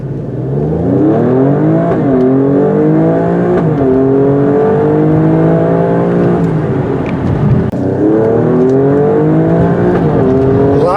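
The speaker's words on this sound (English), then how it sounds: "Doing so seems to create a louder exhaust noise." A 2019 Alfa Romeo Stelvio Quadrifoglio twin-turbo V6 revs hard and repeatedly, each rise in pitch followed by a drop, with a loud, throaty exhaust close by.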